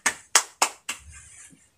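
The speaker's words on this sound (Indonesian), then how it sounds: "Ayo semuanya tepuk tangan untuk kelompok 2" Clapping in a classroom for a group's presentation: four sharp, evenly spaced claps in unison, each crisp and close, followed by a brief soft tail of scattered noise.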